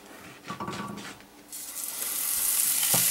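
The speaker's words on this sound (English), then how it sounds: "So we're gonna cook it with the skin side down first." Wild perch fillet, floured, laid skin side down in a hot sauté pan: a quiet clatter and shuffle, then a loud steady sizzle that swells and stays strong to the end.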